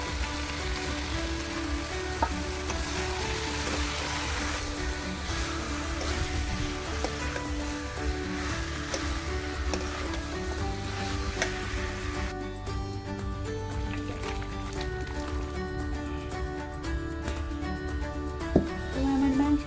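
Chicken and fried potatoes sizzle in a pan with a soft, continuous crackle, fairly quiet and even throughout, with a brief clatter near the end.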